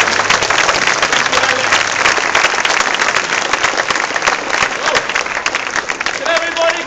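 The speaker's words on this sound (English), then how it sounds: "Could everybody give Wally a big clap?" An outdoor crowd on Austurstræti breaks into loud, sustained applause, many hands clapping densely and evenly for several seconds, with faint voices mixed in.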